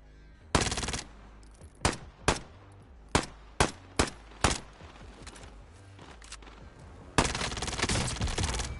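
Gunfire in a PS4 video game: a few long automatic bursts bracket a run of sharp, evenly spaced single shots, loud and close.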